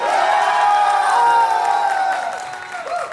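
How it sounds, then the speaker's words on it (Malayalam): A crowd at a Kerala wedding claps and cheers for the groom, a dense and lively burst that stays steady and then slowly fades. Shrill whoops and tones ride over the clapping. "മണവാളിന് പടക്കം പെട്ടുന്ന ഒരു കൈയടി കൊടുത്തേ"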